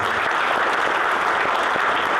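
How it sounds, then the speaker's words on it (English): Dense, steady applause from a student conference audience at a Churches of Christ gathering, loud and continuous throughout with no voices on top. "let's give them a round of applause"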